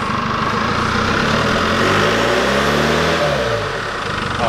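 A Holden Colorado fitted with a new 4 inch stainless snorkel revs up steadily, its engine note rising and rolling close by for several seconds with no one speaking.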